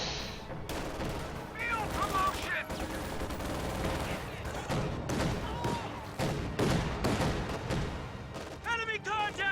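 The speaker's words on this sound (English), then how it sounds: "a little bit of friendly fire from the pack howitzer" Battlefield sounds in a video game, with pack howitzer artillery fire among them: dense rolling gunfire, heavy booms and explosions, continuous and loud, with voices talking and shouting over the top.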